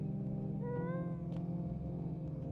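A cat gives one drawn-out, rising meow at a moderate distance, heard over a low steady background hum in a quiet room.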